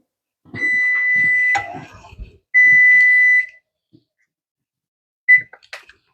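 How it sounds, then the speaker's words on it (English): A kitchen timer set for five minutes while making pineapple pepper jelly beeps in a few distinct electronic tones: a long beep, a second held tone, then a short chirp, with soft handling noises between. "I'm setting the timer for 5 minutes."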